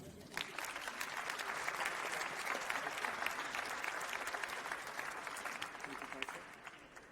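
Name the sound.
audience applause at award ceremony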